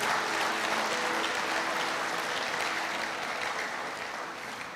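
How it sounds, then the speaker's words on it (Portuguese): Sustained applause from a church congregation, a dense wash of clapping hands that slowly fades toward the end. "Aplaudo o nome de Jesus por esse fundamento."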